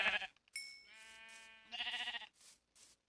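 Sheep bleating in the video game Minecraft, several wavering bleats in a row, clear and close, with short gaps between calls.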